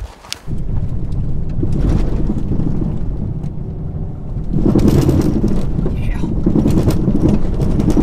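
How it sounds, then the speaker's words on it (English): Vehicle driving down a gravel road in Colorado, heard from inside as a loud, steady rumble of tires and engine that swells louder midway, with voices talking over it. "We are currently driving down a gravel road in Colorado"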